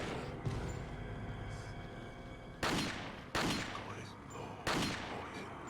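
Three sharp pistol shots in Resident Evil 4, loud cracks spaced about a second apart over a steady low ambient hum, following a stretch of quiet background noise.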